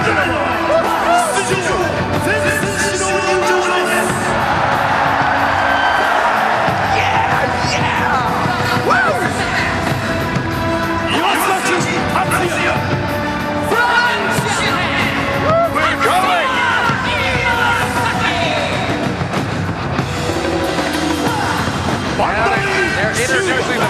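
A packed arena crowd at a Pride FC Shockwave mixed martial arts event roars, yells and whoops in response to fighter Wanderlei, a loud, sustained wall of cheering lasting throughout, with announcer-style voices mixed in.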